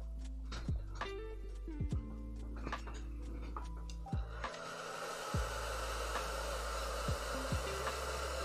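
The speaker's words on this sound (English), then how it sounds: "Hit this with a hairdryer." Sharp clicks and ticks from handling tools sound on a workbench, then a hairdryer switches on midway and blows a steady whooshing roar over painted HO scale model brick, with occasional knocks continuing beneath.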